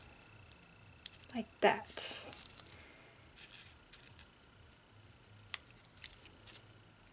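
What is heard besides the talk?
scissors cutting paper for accordion fold flower rosette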